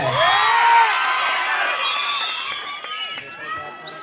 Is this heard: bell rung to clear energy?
no